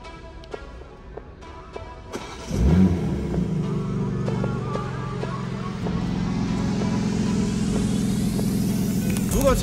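A BMW M3 Competition G80 with rear-wheel drive starts up after a few faint clicks, its engine settling into a loud steady rumble that swells as it pulls away and accelerates.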